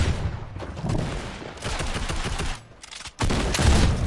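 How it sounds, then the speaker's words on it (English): Gunfire rattles in a Fortnite match, dense rapid bursts that are loud and sustained, with a brief pause before the shooting resumes, no talking over it. "Someone's shooting me."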